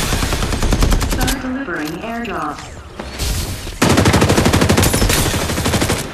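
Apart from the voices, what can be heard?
machine gun fire in video game Farlight 84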